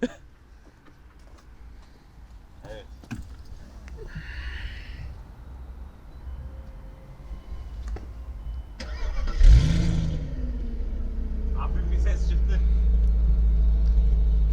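An Audi S6 with a 3.0-litre diesel engine cranks and starts with a sharp burst, then settles into a deep, steady idle rumble, with people talking and some clicks before the start.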